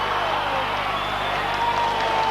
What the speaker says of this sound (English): you can hear the roar of the crowd as Myers sets his stall out